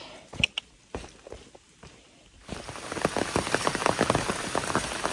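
Rain pattering steadily on a hiker's gear along the Appalachian Trail, starting as scattered drops and thickening into a denser, closer patter about halfway through, with no talk.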